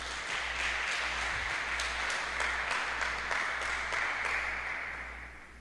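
Church congregation applauding the Lord Jesus during a youth sermon, steady sustained clapping that fills the room and tapers off near the end, with a low hum underneath.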